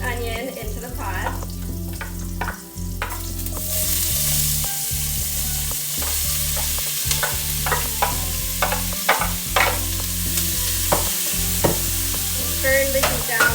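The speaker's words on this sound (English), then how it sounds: "Then you're going to add a diced onion into the pot." Diced onion sizzles in a hot pot for an easy home dinner: a loud, steady frying hiss with occasional stirring scrapes, over a low constant hum and no talk.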